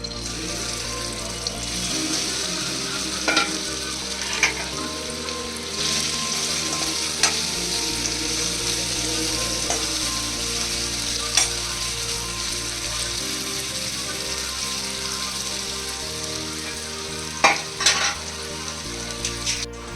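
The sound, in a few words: paneer pieces frying in hot oil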